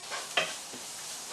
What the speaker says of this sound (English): So we'll add our flour and give her a really nice stir up for a half minute